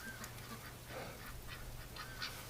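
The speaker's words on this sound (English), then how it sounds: "There's got to be like 30 ducks out there waiting to come in." A flock of about 30 ducks waiting outside a barn door in winter gives off scattered, faint quacks and honk-like calls, distant and repeated over a low steady background hum.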